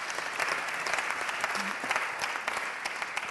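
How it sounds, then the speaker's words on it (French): Moderate applause from a conference audience at a French business forum, a steady patter of many hands clapping at medium distance with a few sharper individual claps standing out. "Ces applaudissements pour les 3"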